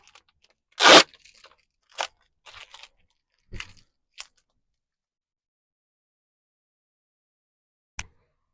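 Packing tape ripped from a Beyblade package in a few short, sharp tearing bursts, the loudest first, then scattered smaller rips and clicks separated by silence.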